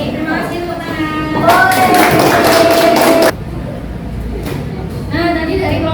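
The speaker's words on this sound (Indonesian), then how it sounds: "Baik, terima kasih tepuk tangan" Classroom applause, a burst of clapping from students that swells for about two seconds, then fades under murmuring and kids' voices.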